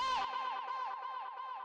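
A sustained chanted vocal sample with delay effects holds a wavering tone that repeats and trails off, alone and clear.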